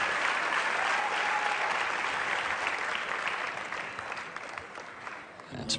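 A dog show crowd applauds loudly and steadily, the clapping holding strong then thinning toward the end.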